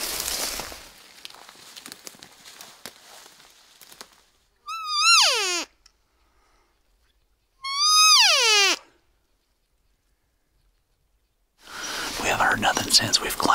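A hunter imitating an elk cow call on a ridge while working downhill, two drawn-out, high, wavering mews separated by silence, loud and close, with soft whispering before and after.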